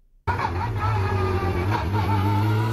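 A Porsche 911 GT3 Cup race car on the Mandalika circuit, heard as a loud, sustained engine drone that starts abruptly and holds steady, close by, with faint crowd babble behind.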